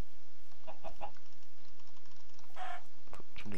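Minecraft chickens in a modded Norman village setting clucking in short bursts, mixed with clicks from a computer keyboard and mouse, close and moderately loud, with a brief higher squawk near the end and no talking.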